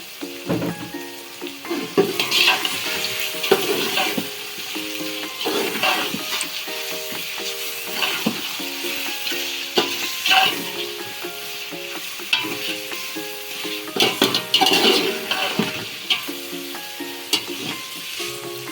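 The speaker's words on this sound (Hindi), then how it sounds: "अब हम इसके अंदर चिकन शामिल करेंगे और चिकन को हमने इतना भूनना है कि इसको गोल्डन सा कलर आ जाए" Chicken pieces sizzle in hot oil in a pan while being stirred, with a steady frying hiss broken by repeated scraping spoon strokes and occasional louder clatters, close by and without any voices.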